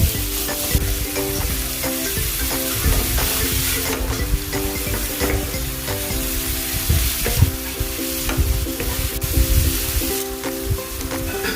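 Beef stir-fries in a pan of cooking oil with onion, a loud and steady close sizzle with frequent small crackles and scraping stirs throughout.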